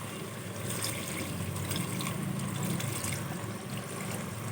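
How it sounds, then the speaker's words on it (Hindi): About half a glass of water is poured into a pot of mutton korma, making a steady, fairly loud wash of liquid noise that runs unbroken for several seconds with no talking. "इसमें हम आधा गिलास के करीब पानी डाल रहे हैं।"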